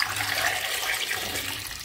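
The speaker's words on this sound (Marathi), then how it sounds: "हे पाणी ओतून टाकते" Water splashes steadily as it is poured off gooseberries soaking in a pot for sweet candy, a close, continuous rushing pour with no talk.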